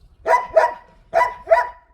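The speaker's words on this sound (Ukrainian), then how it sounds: "А, ведуть нам собаку." A large dog on a leash gives four loud, close barks in two quick pairs, with short pauses between them and no speech.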